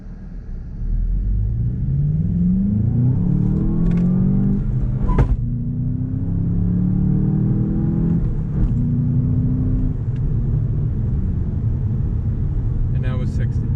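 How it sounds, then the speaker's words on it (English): Volkswagen Jetta GLI accelerating hard from 0 to 60 mph down a street, engine note climbing through rising gear sweeps with brief breaks at shifts, loud and close from inside the car, with people talking over it. "We'll do a quick 0 to 60 pull down the street here."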